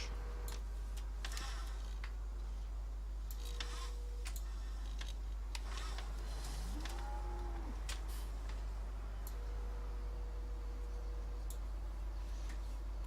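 Cows moo in Farming Simulator 17, a few drawn-out calls mid-clip over a constant low game hum and scattered clicks, with no talk.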